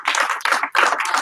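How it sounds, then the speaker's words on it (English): Audience of karate students clapping together in three short bursts of applause, loud and close in a class setting. "Everybody give him one clap."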